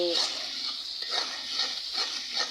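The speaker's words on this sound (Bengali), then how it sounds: "আর এখন আমি এই মশলাগুলো সব ভালোভাবে কষাই নিয়ে" Spices sizzling and frying in a pan while being stirred during the cooking of a rohu fish curry with beans, a steady close hiss with soft scraping stir strokes throughout.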